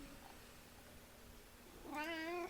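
A cat gives a single short meow near the end after a quiet stretch of faint background hum, close and clear with no talking.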